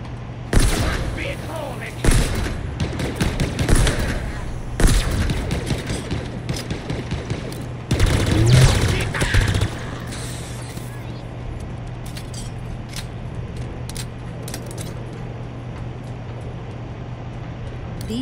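Gunfire in the Halo Infinite game bursts in rapid, loud volleys of sharp shots and booms for about ten seconds, then fades to quieter ambience, with a voice talking over parts of it.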